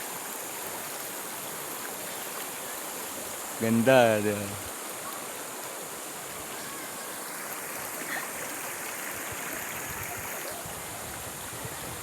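Clear mountain stream water runs in a steady broadband rush throughout, close and continuous, while a person briefly speaks over it partway through.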